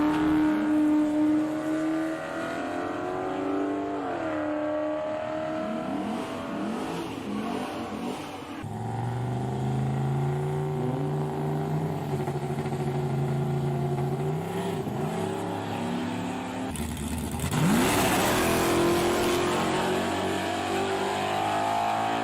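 Drag racing cars at Palmyra Raceway roar past with loud rising and falling engine revs, several passes overlapping, including a sharp swelling pass near the end.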